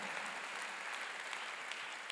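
Steady applause from a church congregation at a theological seminary graduation service, a broad even wash of many hands clapping at moderate distance with no pauses.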